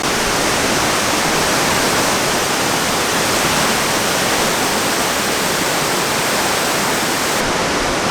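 A waterfall roars steadily and loudly, a dense, unbroken rush of water with no voices, heard from near its edge.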